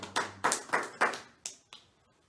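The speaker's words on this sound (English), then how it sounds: "Please take your seat and clap your hands for Jesus." A handful of sharp, separate hand claps ring out in a church congregation during a Sunday service, irregularly spaced and fairly close, with no talking over them.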